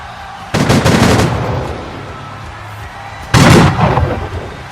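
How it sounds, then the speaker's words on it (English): Two loud booming bursts of fireworks with crackling tails, a few seconds apart, over a steady low background murmur of a large wrestling event crowd. "A huge set of fireworks"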